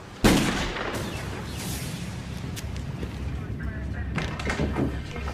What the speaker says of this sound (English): There's been a gunshot.